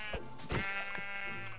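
Wild sheep in a video game bleat with a drawn-out wavering cry, moderately loud, with a brief clatter of game sounds around it and no talking.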